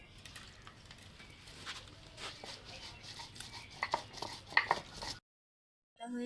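Spice paste with cumin powder being ground by hand in a home kitchen, a steady scraping and pounding rhythm for about five seconds with sharper knocks near the end, then a brief silence.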